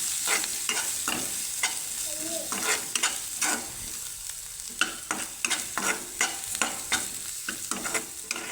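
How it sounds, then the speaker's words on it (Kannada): Chilli powder frying in oil in a pan for a brinjal and peas gravy over a low to medium flame, a constant close sizzle broken by frequent rhythmic scraping strokes of a spatula, no talk. "ಹಾಕ್ಕೊಂಡ್ಬಿಟ್ಟು ಊರಿನ ಲೋ ಟು ಮೀಡಿಯಮ್ ಫ್ಲೇಮಲ್ಲಿ ಇಟ್ಕೊಂಡು ಚೆನ್ನಾಗಿ ಹುರ್ಕೋಬೇಕು."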